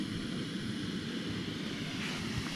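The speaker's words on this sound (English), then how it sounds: "I've got the jet boil going." A Jetboil camping stove burns with a steady, loud, broadband roar that continues without a break, set at a car camping spot in Scotland.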